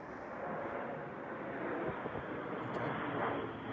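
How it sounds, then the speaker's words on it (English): A jet aircraft passes overhead above a house, a faint, steady broadband roar heard from indoors for several seconds with no talk. "Can you hear the jet? So that's right over my house."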